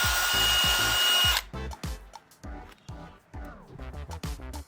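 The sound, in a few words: drilling holes with a 5/16 drill bit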